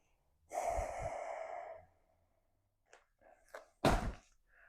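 A long, steady nasal breath runs for over a second, then after a pause come a few shorter sniffs and a sharp puff out through the nose, close and quiet in an otherwise silent room.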